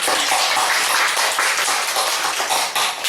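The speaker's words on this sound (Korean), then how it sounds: "그 박수 한번 쳐주시면 좋겠습니다." Church congregation clapping together during a sermon, a loud, dense, continuous round of applause with many hands throughout.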